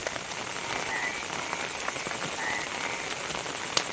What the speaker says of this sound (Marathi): खतरनाक जोरात आलाय पाऊस